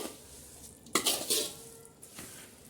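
Mango pickle masala is stirred to mix it evenly, giving a few close scraping and clinking strokes of a spoon against the container, in short bursts separated by quiet.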